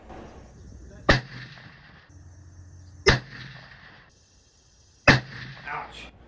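Three muzzleloader shots of Nosler 300gr Spitzer bullets over 150 grains of Triple Seven pellets, each a sharp loud crack about two seconds apart with a short outdoor echo, faint voices between shots.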